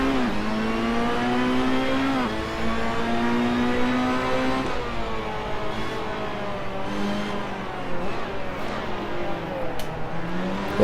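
A race car's engine in the Assetto Corsa racing game revs and climbs through the gears as it powers out of a corner, loud and continuous, with the pitch rising, dropping at each shift and rising again.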